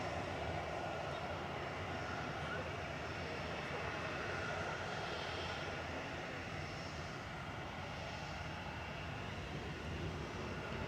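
A fixed-wing airplane departing Manchester Airport roars overhead above the city centre, a broad, loud, sustained engine rumble and hiss that holds steady for about eleven seconds.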